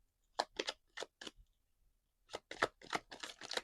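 A series of quick, crisp riffling bursts of tarot cards being shuffled, two clusters separated by a short pause, close and fairly quiet.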